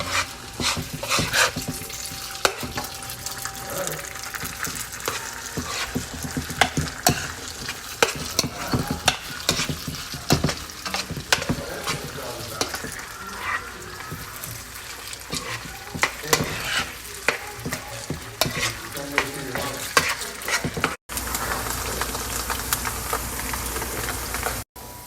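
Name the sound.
stir-frying fried rice with soy sauce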